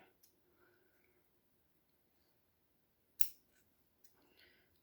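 One crisp, close snip of scissors rings out in near silence, followed a moment later by a fainter click.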